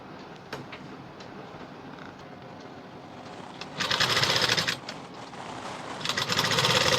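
A sewing machine stitches the neck piece of a high-neck blouse, its motor whirring at a moderate pace before breaking into two louder, faster bursts of rapid stitching.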